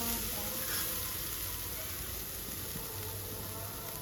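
Dried shrimp shells dry-frying in a pan without oil, giving a continuous soft sizzle and crackle with occasional stirring scrapes, faint and steady.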